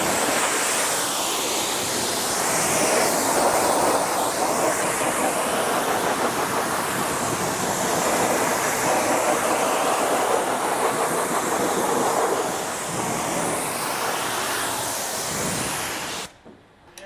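A Range Rover L460's wheels are rinsed with a pressure washer, producing a loud, steady rushing hiss of spraying water for about sixteen seconds before cutting off abruptly.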